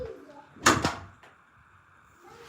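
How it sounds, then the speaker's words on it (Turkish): An indoor door is pushed shut with a single sharp knock and a quick softer follow-up, close and brief against a quiet room. "Kapıyı kapatalım bu arada."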